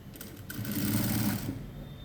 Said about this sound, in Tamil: இப்போ நான் கொஞ்சம் கொஞ்சமாக கொஞ்சம் கொஞ்சமாக ஸ்டிச் பண்ணி எடுத்துகிட்டு வரேன்